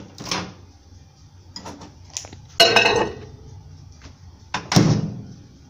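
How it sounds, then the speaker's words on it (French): A bowl of melted chocolate topping is set into a microwave and the door is shut, giving a series of close clinks, clatters and thuds, with the loudest clunks near the middle and the end. "Il n'y a plus qu'à le mettre"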